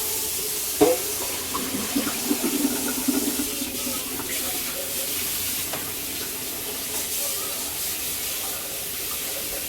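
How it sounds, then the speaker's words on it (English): Cold water runs steadily from a tap into a hot pan for several seconds, with a brief clatter near the start and faint sizzling underneath. "Cool my pan off with some cold water."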